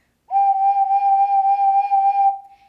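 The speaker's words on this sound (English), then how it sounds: "Now I'm going to teach you how to actually produce vibrato." An ocarina sounds a single sustained note with throat vibrato, its loudness pulsing in a gentle, regular wobble for about two seconds before it tapers off; clear, close and alone.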